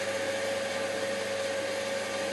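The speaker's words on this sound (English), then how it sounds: "put it on a low setting and start to whisk it" An electric mixer whisks egg whites for nougat on a low setting, giving a steady, even motor whir with a constant hum that runs unbroken throughout, close by and alone with no voices.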